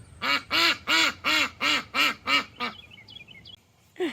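Farm ducks give a run of about seven loud, evenly spaced quacks close by, then fall quiet while faint high bird chirps follow, with one more quack starting at the end.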